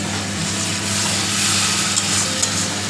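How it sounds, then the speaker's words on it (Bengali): Cumin-paste spice masala for Bengali prawn curry stir-fries in a pan, a steady loud sizzle with scraping stirs and a couple of sharp spatters near the end, no voices. "যাতে মশলাটা পুড়ে না যায়, আমি কষছি তো অনেকক্ষণ ধরে"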